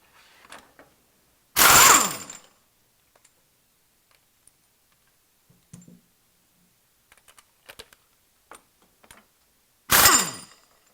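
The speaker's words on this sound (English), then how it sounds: "We're now going to remove these 2 U-bolt nuts here," A ratchet loosens U-bolt nuts on an RV chassis, with two short, loud bursts of rapid clicking several seconds apart and faint scattered ticks and knocks in the quiet between them.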